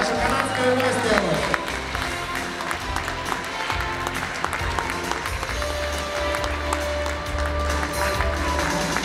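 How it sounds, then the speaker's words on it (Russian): An audience at the Golden Turtle 2018 awards opening applauds to welcome a Canadian guest. Sustained clapping runs throughout, with voices and background tones mixed in. "Давайте особо горячими аплодисментами приветствуем нашу канадскую гостью"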